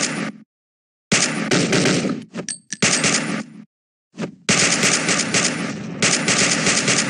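Rapid automatic gunfire from the mobile shooter game Toon Royale.io, loud and close, arriving in long sustained bursts broken by short silent gaps, with a few brief metallic clinks between volleys.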